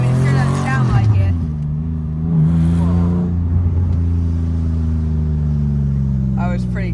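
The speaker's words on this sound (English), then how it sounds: "I love the way it's like rumbling and popping the exhaust" Close, loud exhaust of a modified RWB Porsche 993 with no sound deadening, a deep rumbling drone rising and falling as it revs, with crackles and pops, while a person talks over it.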